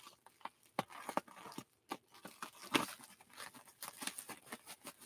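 Crisp, irregular snipping and crinkling of plastic packaging up close, a series of sharp cuts with rustling between them.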